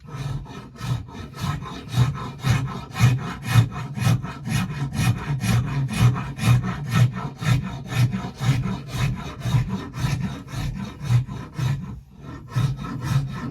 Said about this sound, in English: Okay, you need to take the scraper back over.